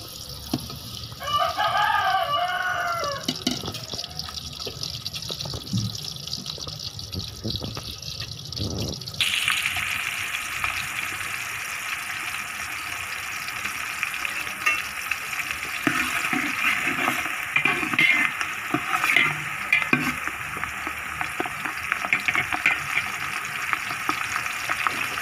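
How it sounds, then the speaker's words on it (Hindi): Sliced onions frying in hot ghee for an Arabian-style chicken mandi pulao, a steady broadband sizzle that jumps in strength partway through and then hisses on without talk. "घी के अंदर प्याज डालेंगे।"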